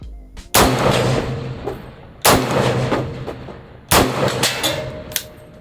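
Three loud, closely recorded shots from an M1A CQB rifle built to resemble a Call of Duty gun, evenly spaced about 1.7 seconds apart, each followed by a long echoing tail.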